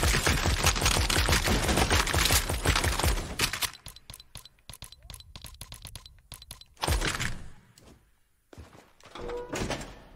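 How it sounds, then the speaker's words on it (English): Rapid bursts of dual pistol fire from the Fortnite video game, dense volleys at first and then scattered single shots and pauses, loud and up close, with no talking. "Whoa, dude, it's Deadpool's dual pistols."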